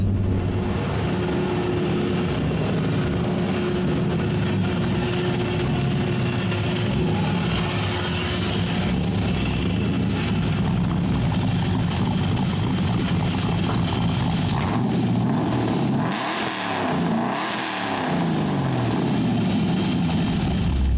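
An LS-swapped car engine runs steadily with a deep, throaty rumble, then revs and settles near the end, loud and close.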